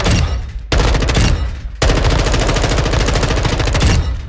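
An M4 rifle in Call of Duty MW2 fires loud, rapid automatic bursts at a 50-meter range, with brief pauses between sustained strings of shots.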